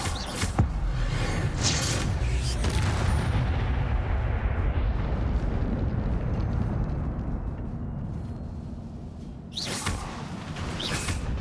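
A fire spell cast in Hogwarts Legacy, heard as a loud, sustained roaring rumble with crackling bursts at the start and again near the end, steady and close.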